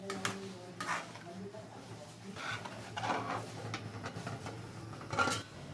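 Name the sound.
stirring pancit canton sauce with pepper and brown sugar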